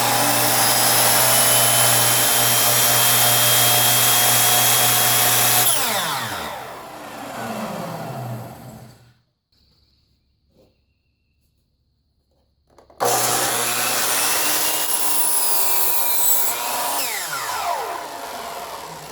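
A repaired DeWalt miter saw runs loud and close, its motor whine sweeping down as it cuts through a workpiece, falling silent for a few seconds, then starting up again for a second loud run.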